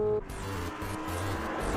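A Lamborghini Huracán with a 5.2-litre V10 racing a 3.9-litre twin-turbo V8 Ferrari 488 GTB in the MF Ghost anime, a sustained loud engine drone with a rhythmic pulsing, brief and steady.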